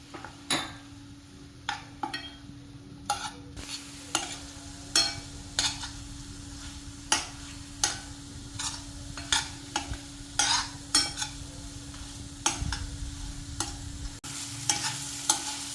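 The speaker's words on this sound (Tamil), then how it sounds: "நாம் இந்த காரம் இதெல்லாம் சேர்றதுக்காக நாம் இதை இப்போ வதக்கிக்கிறோம்." Paneer gravy ingredients sizzle steadily in a pan with chilli powder while a utensil scrapes and knocks against the metal in regular strokes, close up.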